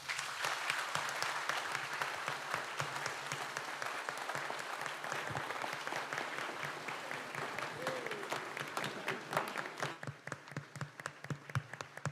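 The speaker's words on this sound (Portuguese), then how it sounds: "Vamos acolhê-lo com uma forte salva de palmas." A church congregation at a Catholic Mass in Ibicaraí, Bahia, breaks into loud, sustained applause, a dense wash of many hands that thins into scattered claps toward the end.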